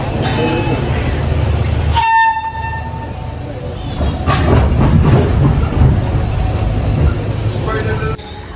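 A passenger train on the Colombo to Trincomalee line in Sri Lanka rumbles loudly and close, and its horn blows partway through over steady rolling wheel noise.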